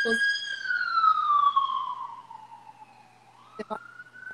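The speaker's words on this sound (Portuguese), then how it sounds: "Ambulância." An ambulance siren near a hospital, a single long descending wail that sweeps down then starts rising again, heard at moderate distance with a few brief knocks and faint background noise.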